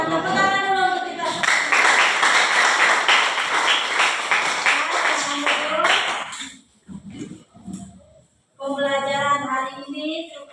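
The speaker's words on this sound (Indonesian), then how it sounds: "Tepuk tangan dulu untuk kita." A classroom of high school students applauds together at the end of a lesson, a dense burst of clapping lasting several seconds, while voices chatter and call out around it before the room quiets and speech resumes.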